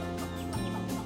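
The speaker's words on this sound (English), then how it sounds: "She's my Americana hen." An Americana hen gives a few soft, low clucks up close in a quiet setting.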